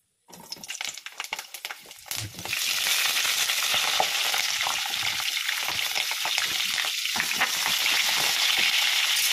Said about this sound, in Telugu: మిర్చి వేసేస్తున్నాం